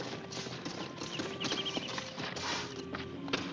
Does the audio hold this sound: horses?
yes